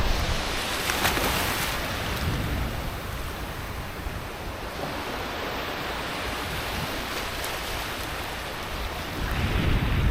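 Ocean waves roll and wash onto the shore at Nagtabon Beach, Palawan, forming a continuous broadband surf roar with some wind noise and no speech.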